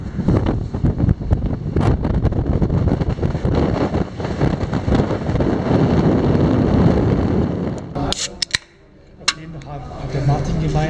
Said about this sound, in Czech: Takový vítr, že se tady nedá ani chodit.